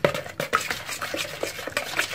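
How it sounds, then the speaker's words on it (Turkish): A spoon scrapes and clinks through a thin sauce with thyme and dried mint in a pan, quick irregular stirring strokes, close and clear with no talking. "Bunu bir güzel karıştıralım."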